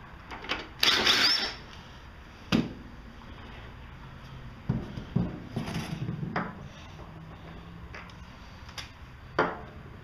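Metallic clanks and ratcheting from hand tools working on the rear wheel of a Honda HRC216 commercial lawn mower, held by a 14 millimeter fastener, with scattered knocks and scraping, fairly close.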